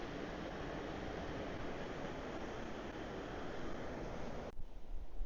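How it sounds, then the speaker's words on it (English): Steady, heavy coastal wind at North Foreland, Kent, buffeting a microphone, a dense low rumble that cuts off abruptly near the end, leaving gustier bumps. "See how well this microphone holds up to this wind."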